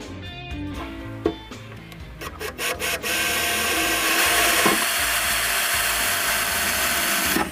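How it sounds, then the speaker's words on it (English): A few clicks and short bursts, then a power drill whirs steadily, drilling holes for a jon boat grab bar, a sustained grinding buzz close by. "so drilling three holes"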